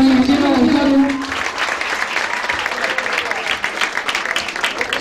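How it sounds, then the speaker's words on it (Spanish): A crowd at an outdoor political rally in Las Flores, Honduras breaks into sustained applause, starting over a sung or spoken tone and continuing as dense, fairly loud clapping throughout. "fuerte aplauso también a Diego Gonzalo."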